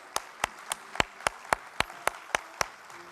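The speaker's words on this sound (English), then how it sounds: "An applause for Jennifer," At a data festival opening ceremony, about ten crisp, evenly spaced claps ring out close by, sounding like a single pair of hands rather than a crowd, with a quiet room behind them.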